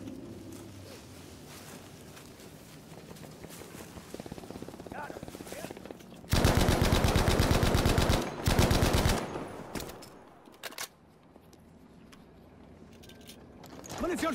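Video game gunfire, heard as a loud sustained burst of rapid automatic fire for about three seconds after a stretch of game background noise and talk, followed by a few short later bursts.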